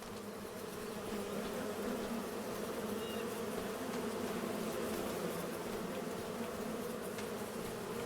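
Bees buzzing at a bee farm in Farming Simulator 25, a dense, continuous swarm drone with no pauses, steady in level and heard alone.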